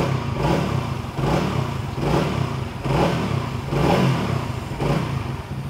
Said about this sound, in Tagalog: ito yung tunog ng kanyang tambucho na stock.